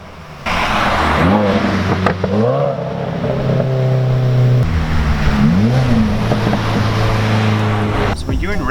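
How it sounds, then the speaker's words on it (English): Car engine revving up and down through downshifts, rising and falling engine tones close by with exhaust crackle, loud and continuous. "So the next one is called downshift pops. It's when you downshift and it just pops."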